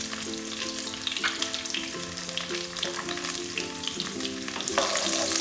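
Garlic dropped into hot oil in a pan, a loud continuous sizzle and crackle with stirring scrapes throughout, growing louder near the end, no voices.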